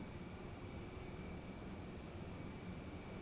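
The cabin of a Flight Factor Airbus A320-200 in X-Plane 11 during pushback carries a steady, even engine and air hum that holds constant throughout.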